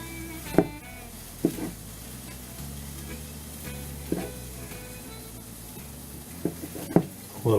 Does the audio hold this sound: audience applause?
no